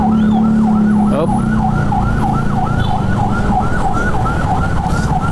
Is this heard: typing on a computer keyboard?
no